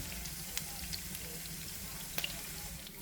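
Jalapenos fry in hot oil with a constant bubbling hiss, steady and close, with a few faint clicks rising above it.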